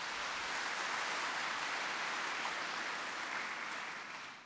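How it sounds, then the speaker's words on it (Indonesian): Steady applause for nuns and friars fills a church during a Sunday homily, a dense, even wash of clapping that holds for several seconds before slightly fading at the end. "Kita berikan dulu tepuk tangan untuk mereka ini"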